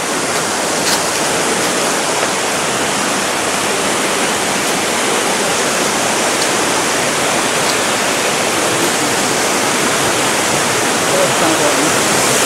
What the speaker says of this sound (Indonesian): Itu sudah sungainya sudah dekat